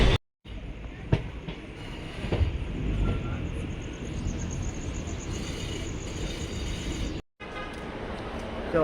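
A train runs along the rails with a continuous rumbling roar and faint clatter, heard from inside a carriage, loud and steady with two brief gaps of silence.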